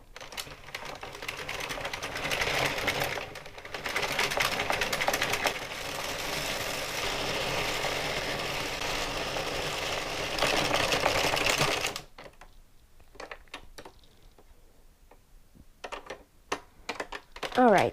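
An Addi King knitting machine knits rows of an earwarmer headband, with a loud, steady, whirring clatter for about twelve seconds. Then it stops, leaving scattered clicks and handling taps close by.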